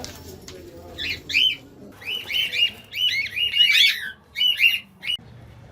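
Many pigeons and other birds caged in a cramped apartment during a seizure of about 150 birds, giving repeated short chirps and coos in bursts, fairly close and moderately loud, with no talking.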